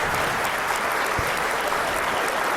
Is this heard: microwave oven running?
no